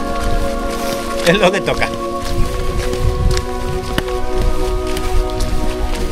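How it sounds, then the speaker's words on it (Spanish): Rain falling on a mountain trail at the Desfiladero de las Xanas gorge in Asturias, a loud dense hiss of drops close by, with people talking over it. "al final nos ha pillado la lluvia."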